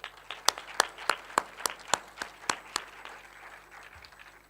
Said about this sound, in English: Let us give a good clap to Mr.